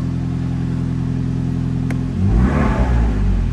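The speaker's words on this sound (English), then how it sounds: "A little blip on the throttle makes you feel as if you're sitting in a V6 or V8" Abarth 124 Spider with a 1.4 turbo four-cylinder and Record Monza exhaust idles in a steady low rumble, then a quick throttle blip brings a loud rising rev that falls back, heard up close.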